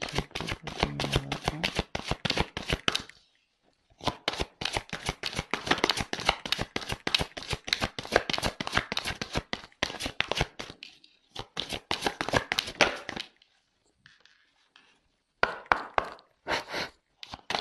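Cards being shuffled and drawn for a card reading, with long runs of rapid riffling and flicking that break off into short pauses and then resume in bursts, close and fairly loud, with no voices.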